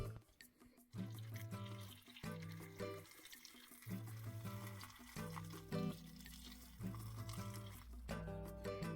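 Tomato marinade is poured into jars of crisp cabbage in a home kitchen, a steady liquid pour running beneath continuous background music.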